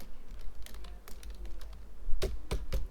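Quick bursts of keystrokes on a computer keyboard while JavaScript code is entered, clicky irregular taps with a few louder clustered strikes near the end, no voices.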